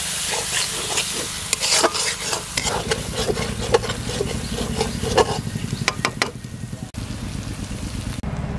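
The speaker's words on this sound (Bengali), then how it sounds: "মশলাগুলো ভালোভাবে কষিয়ে নিয়েছে," Ground turmeric, dried chili, coriander and salt frying in oil for a village-style red country chicken curry, stirred steadily with a spoon; a continuous close sizzle with repeated scraping strokes, no talking.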